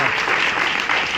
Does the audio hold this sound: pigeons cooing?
no